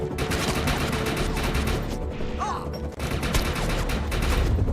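Dense, rapid gunfire with heavy recoil in Defiance 2050 hammers away almost without pause. The bursts are loud and close, with one short break near the middle.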